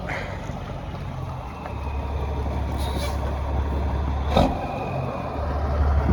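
A Caterpillar diesel engine in a loaded semi truck idles with a steady low rumble throughout, close and continuous, with a brief sharper knock partway through.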